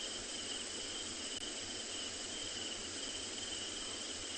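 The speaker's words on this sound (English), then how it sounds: "all you hear around you now are mosquitoes" Insects drone in a steady, unbroken chorus at night on a safari, thought to be mosquitoes, filling the air evenly with no voices or other sounds.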